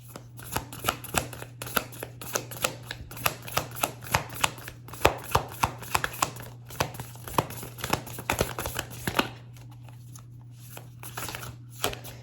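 Cards being shuffled repeatedly, a steady run of crisp riffling bursts with a faint constant hum underneath, quieter near the end.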